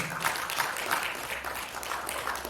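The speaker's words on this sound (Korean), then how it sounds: "박수 부탁드립니다." An audience at an academic seminar on trade, environment and energy policy claps steadily in a dense, even burst of applause that fills the room for a few seconds.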